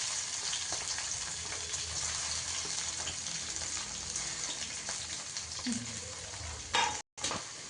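Carrot, chili and cabbage stirred in a hot pan for homemade noodles, a steady close sizzle with scraping spatula strokes running throughout, briefly cutting out near the end.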